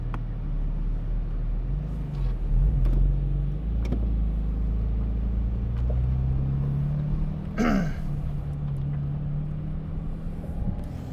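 A 2022 Porsche 718 Cayman GT4 RS engine drones steadily on a track with deep, loud exhaust rumble, rising in pitch as it revs and accelerates, then settling back, fairly loud and close.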